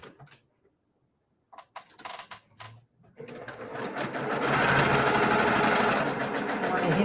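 A sewing machine stitches a quilt block: after a few quiet handling sounds and brief starts, the motor runs up into a steady, close, continuous rapid whir for the last four seconds.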